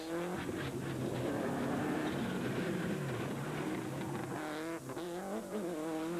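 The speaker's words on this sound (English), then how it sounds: "Continuing down through the course at high revs through every gear, he pushes the Subaru right to the very limit." A high-revving Subaru rally car engine screams continuously on a rallysprint course, pitch climbing and dropping through gear changes, loud and close with no speech.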